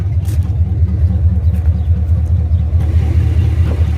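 A 1988 Chevy truck engine idles steadily and close by, a deep continuous rumble with a slight pulsing rhythm throughout.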